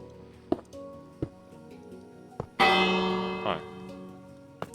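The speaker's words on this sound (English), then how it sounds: "those redstone blocks to be specific, will have a bell on top of them" A bell in a Minecraft redstone door build chimes once, clear and ringing with a long fading tail, between soft clicks of blocks being placed.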